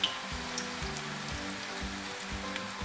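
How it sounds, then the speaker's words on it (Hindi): Onion pakoras fried by hand in hot oil give a steady, dense sizzle with soft bubbling crackle throughout, close and even, with no voices. "अब इसको हम फ्राई करते हैं। हमारा ऑयल गर्म हो चुका है।"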